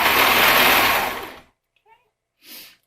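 A sewing machine stitches a short seam on a sweater, its loud whirring motor running for about a second and a half before stopping, followed by faint small clicks and a brief rustle.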